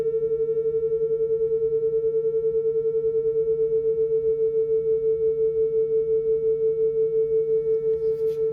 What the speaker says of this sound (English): that woo woo woo woo woo woo woo pattern, are referred to as beats